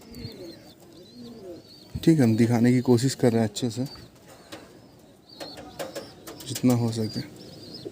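Soft cooing from a male pigeon prized for its eyes, held close at a Howrah pigeon market, comes in short bursts beneath someone speaking Hindi at close range.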